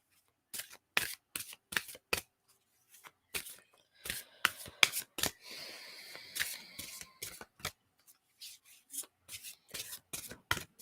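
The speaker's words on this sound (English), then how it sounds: "let's pull out some Avalon cards for some clarity in all of this" Oracle cards being shuffled by hand, a series of crisp riffling bursts and soft slides in an irregular rhythm, close and fairly quiet with short pauses between runs.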